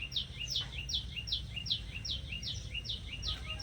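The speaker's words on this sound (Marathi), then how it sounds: "आता सध्या मस्त पक्ष्यांचा आवाज पण येऊ राहिला" A bird repeats a quick, bright chirping phrase again and again in a steady rhythm, over a low rumbling background hum.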